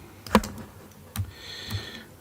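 A few sparse keystrokes on a computer keyboard, entering shortcuts while building a melodic house track: three separate clicks spread over about two seconds, fairly close and quiet, with no talking.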